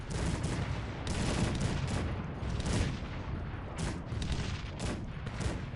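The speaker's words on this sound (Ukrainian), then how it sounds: "Настрілює нас зараз е, Кетвізель гарматами" Cannons fire in the real-time strategy video game Cossacks 3 during an eighteenth-century battle, with dense, repeated volleys of booming shots rolling over one another in continuous bursts.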